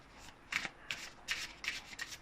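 Tarot cards are shuffled by hand in a few quick riffled bursts, soft and close, with brief pauses between them and no speech.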